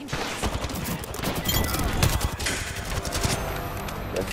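Rapid gunfire bursts in the battle-royale video game Apex Legends, dense and loud throughout with sharp repeated shots over a busy game mix.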